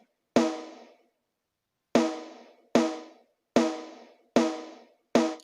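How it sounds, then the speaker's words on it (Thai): Original snare drum from a Thai karaoke backing track of a song, with effects already on it, strikes six separate times at uneven intervals, each hit crisp and broadband with a quick decaying tail, no voices. "อันนี้สแนร์เดิมๆครับ"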